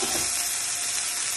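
Chopped garlic sizzles in hot oil in a pan while honey Cajun salmon is prepared, a loud, steady, bright frying hiss with a few small pops, heard on its own without talk.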